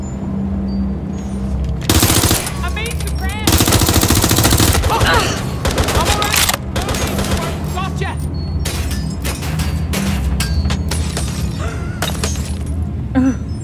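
Rapid automatic gunfire and sharp single shots from a Watch Dogs Legion shootout ring out loud and close in dense bursts, with glass shattering and impacts, while voices talk over the action.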